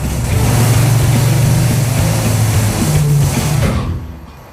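A low-buck big block V8 in a hot rod garage runs under load on a dyno, sweeping from about 2,500 to 5,000 RPM with a deep, steady roar that holds loud and then drops off sharply at the end.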